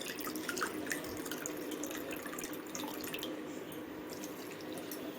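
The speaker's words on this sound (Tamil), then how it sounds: "இப்போ இதிலே வந்து தண்ணி ஊற்றிக்கலாம்." Water is poured into a bowl of wheat flour and curd batter in a home kitchen, a soft, continuous trickling and splashing stream at close range with no speech.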